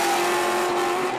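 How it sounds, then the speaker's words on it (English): Drift car tyres squealing hard during a drift battle at the Malta Drift & Road Show 2012, a loud continuous high screech over engine roar with no talk. "Colfer shredding his tyres to pieces"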